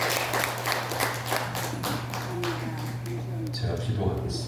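Church congregation clapping in welcome at a Sunday daytime service, a steady patter of many hands running for several seconds under a low hum, with a voice speaking over it near the end.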